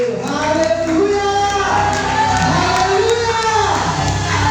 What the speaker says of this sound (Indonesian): sekali lagi kita tepuk tangan yang meriah